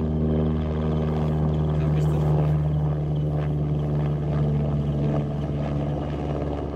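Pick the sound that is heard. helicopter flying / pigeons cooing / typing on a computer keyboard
helicopter flying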